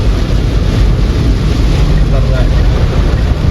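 Heavy rain pounds a car driving through a downpour with near-zero visibility amid overtaking traffic, a dense, steady roar of water and wind filling the cabin while people talk over it.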